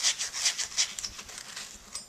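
An 80-grit sanding block rubs back and forth across a metal clacker glove, making close, rhythmic rasping strokes, about seven quick passes in two seconds, with no talking.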